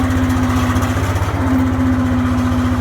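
A farm tractor's engine idles steadily up close, a loud, even rhythmic chug with a constant hum over it, running alone without voices.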